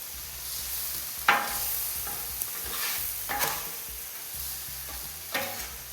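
Beef, green peppers and onions sizzle on a CampChef flat top griddle, a soft continuous hiss broken by several sharp spatula scrapes and clacks as the food is mixed, with no voices.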